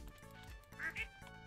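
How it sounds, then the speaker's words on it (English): A duck in the video game Stardew Valley gives two quick quacks in a row, clear and close over soft background game music. "there's my duck"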